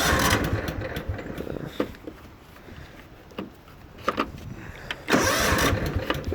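A Cub Cadet HDS 2135 lawn tractor engine cranks over with repeated clattering bursts, then catches near the end and settles into a steady running sound, close by and with no talking.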